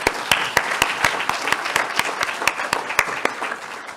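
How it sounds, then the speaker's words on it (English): Applause for campaign staff at an election-night gathering after Virginia's 2017 vote, with sharp, spaced claps standing out over a steady patter from the audience, moderately loud and close. "I'd really like to give a big hand of applause to our staff for what they did on election night."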